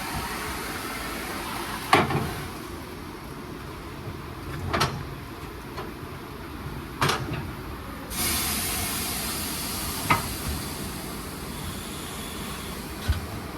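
Pneumatic bead breaker on an ME-T500 tire changer pressing a tire bead off the rim, sharp bursts of air hiss at intervals over a steady background hiss, with a sustained blast near the middle.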